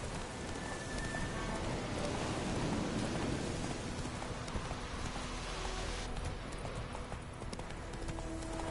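Steady rain pours down in The Witcher game, a dense hiss of falling drops mixed with rhythmic horse hoof clip-clops and a low rumble of distant thunder.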